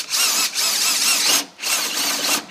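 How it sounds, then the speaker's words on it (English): Power drill pre-drilling a hole for a recessed door magnet contact, two close, loud high-pitched whirring bursts separated by a short pause. "So we're going to go ahead and pre-drill this"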